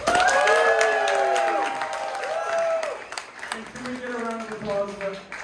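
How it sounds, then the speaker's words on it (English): A crowd at a live music show at The Middle East applauds the performers, with loud whoops and high cheering voices over dense clapping that holds steady and then thins slightly toward the end. "Can we get another round of applause for the ladies?"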